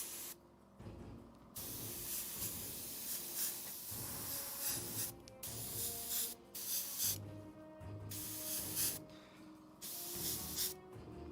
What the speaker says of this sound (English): I'm just going to start hitting this up with an airbrush and go from there, realistically.